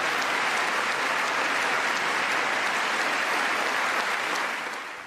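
Members of the US Congress in the chamber giving Netanyahu sustained, dense applause, a steady wash of many hands clapping at even loudness that tapers slightly at the end.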